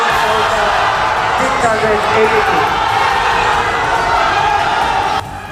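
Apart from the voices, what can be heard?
crowd shouting and cheering in cultural center auditorium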